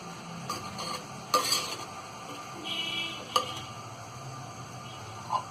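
A spoon stirs chickpea pulao with fried onions and fresh coriander in a pot, making light scraping and a few distinct metal taps over a faint sizzle.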